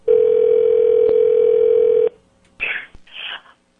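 A loud, steady telephone dial tone holds for about two seconds, then cuts off, followed by a couple of short electronic blips as a prank call is placed.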